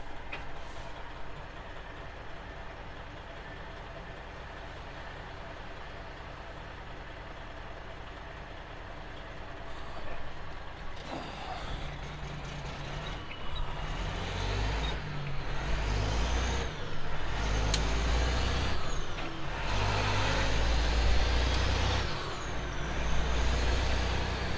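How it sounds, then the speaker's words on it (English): Heavy trucks rumble past on a downtown street in Washington DC, a low engine drone building louder over the second half with hissing and clattering bursts, with no voices. "Oh, how those trucks got in there."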